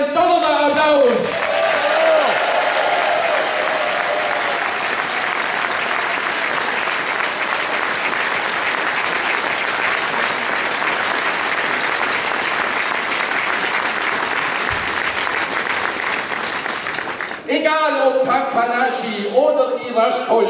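Loud, sustained applause from a crowd at a homecoming reception in Waldstetten for a double world champion in ski jumping, steady and dense for most of the stretch before breaking off into speech near the end.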